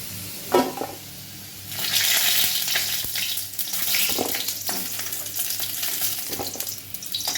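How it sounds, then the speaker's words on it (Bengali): Potatoes fry in a kadai for a drumstick curry, with loud sizzling that swells and eases alongside scraping stirs and some watery splashing, close by and without speech. "আলুগুলো ভাজা হয়ে গেছে, আলুগুলো তুলে দেবো"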